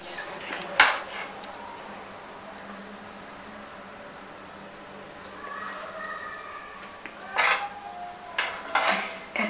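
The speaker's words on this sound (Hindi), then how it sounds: "अब हम चूल्हा बंद करके इसको डिश आउट करते हैं।" Pots and serving utensils clink and scrape in a home kitchen as a stove is switched off and rasmalai is spooned into a dish, with a few sharp metallic knocks at the start and a cluster of clatters near the end over quiet background hiss.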